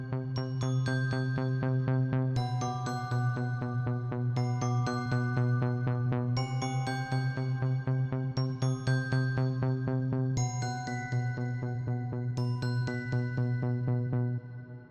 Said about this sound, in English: And pulses are very good for tension track.